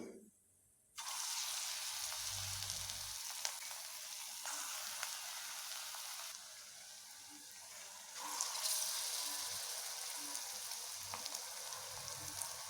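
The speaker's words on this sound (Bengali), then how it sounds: "তেল গরম হয়ে গেছে এবার আমি একটি একটি করে পকোড়ার আকারে ছাড়বো" Sesame fritters (til bora) dropped one at a time into hot oil fry with a steady, fairly faint bubbling sizzle that swells as each new piece goes in, with light stirring and no talk.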